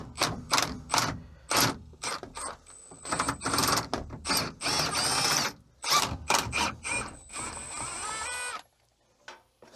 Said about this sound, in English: Let's break these two bolts loose.